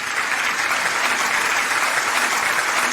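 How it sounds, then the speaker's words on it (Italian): Steady, dense audience applause at an Italian radio show welcoming a female singer, loud and continuous throughout with no voices over it. "una voce femminile che appunto accogliamo con un forte applauso"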